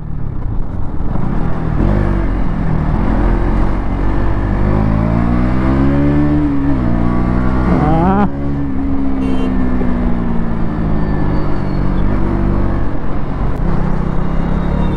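A 2024 KTM Duke 200 motorcycle on the road holds a loud, continuous engine drone with rising and falling revs as it is ridden, close and steady against wind rumble.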